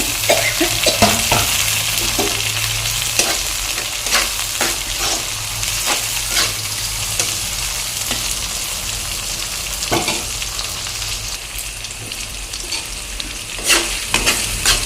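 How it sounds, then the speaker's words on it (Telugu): Tomatoes frying in a pan for a chicken curry, a loud steady sizzle running throughout with repeated scraping strokes of a spatula stirring, no talking. "టమాటోలు కాస్త అంటే సాఫ్ట్గా అయ్యేంత వరకు వేయించుకుందాం"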